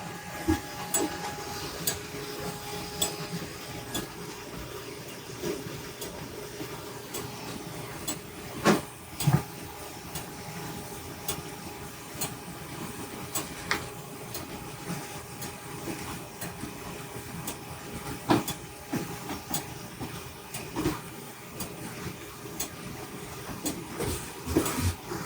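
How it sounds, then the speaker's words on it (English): A Formax ColorMax7 envelope printer running a maintenance cycle, a steady mechanical whir and hum with repeated clicks and knocks from moving parts, close and continuous for the whole stretch. "up for auction is a ColorMax7 Envelope Printer made by Formax"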